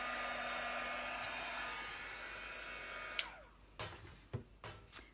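A heat tool for heat embossing blows with a steady, loud rush of air for about three seconds, then switches off, leaving a few light clicks and taps nearby.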